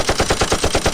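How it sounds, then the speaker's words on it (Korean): A rapid burst of gunfire rings out inside a horse-drawn carriage in a film, about eight loud, evenly spaced shots packed into under a second. "잠시 후 마차 속에 울려 퍼지는 총소리"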